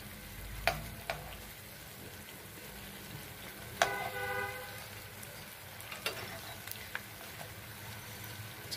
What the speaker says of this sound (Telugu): ఇవి నీట్గా ఫ్రై చేసుకోవాలండి.